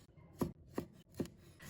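A knife chops small bird's-eye chili peppers into rings on a cutting board, three sharp, evenly spaced strikes at close range with no talking.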